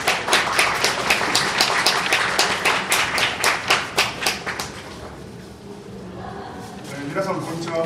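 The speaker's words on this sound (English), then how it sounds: "Please welcome the speaker with a big applause." A seated audience claps to welcome a guest speaker at a Japanese cooking culture lecture, with brisk, fairly close applause that holds for about five seconds before fading into low room sound and the start of speech.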